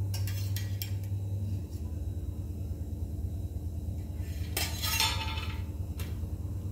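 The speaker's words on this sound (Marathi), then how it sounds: "आता हे झाकण सुरुवातीला काढून" A metal lid lifted off a pot of steamed coriander vadi in a home kitchen, giving a few bright clinks and a louder metallic clatter near the end over a steady low hum.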